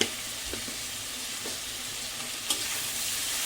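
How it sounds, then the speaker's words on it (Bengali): Elephant foot yam stalks fry in an oily pan with turmeric, a steady close sizzle broken by a few scraping stirs, with no talking. "এবার একটু ভালোভাবে ভাজা ভাজা করে নিয়ে শেষে আমি সর্ষে বাটা নিই"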